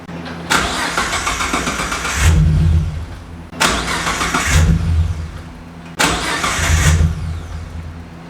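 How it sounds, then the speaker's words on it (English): A turbocharged Ford Mustang running E85 cranks three times in a row, each roughly two-second burst of starter whirring ending in a brief chugging stumble without the engine catching, loud and close with pauses between attempts. "the car is refusing to start"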